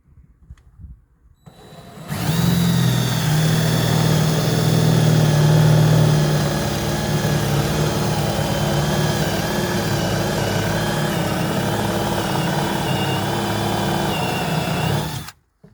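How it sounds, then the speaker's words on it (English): A power drill bores a hole into the wooden hull of a 16 ft Expandacraft outrigger canoe, a loud steady whirring drone that runs continuously for over ten seconds before cutting off, with no talking. "You might have to come around to get a video of this, because I'm going to drill it."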